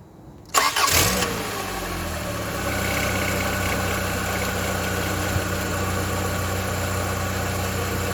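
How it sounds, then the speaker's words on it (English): Rover 45 Impression S3 CVT engine after a service and carb clean: a sharp cough as it cranks and fires, then settles into a steady, close idle. "You hear it coughing, it will start."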